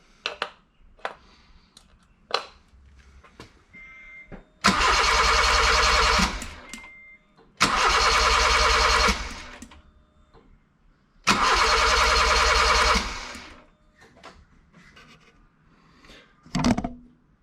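A Honda Civic D16 engine cranks without starting during a compression test, in three loud, close bursts of steady whirring of about one and a half to two seconds each, separated by pauses filled with light clicks and handling noises.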